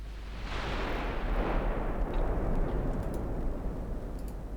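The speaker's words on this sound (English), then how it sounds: "And the old girls are firing. Mark IV 14-inch guns." Mark IV 14-inch naval guns of an old battleship firing in the naval strategy game Ultimate Admiral Dreadnoughts, a loud sustained rumbling boom that rolls on and slowly fades with faint crackle, no voices.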